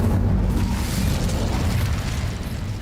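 Incendio fire spell cast in Hogwarts Legacy, a deep, sustained roaring whoosh of flame that stays loud and rumbling for nearly three seconds.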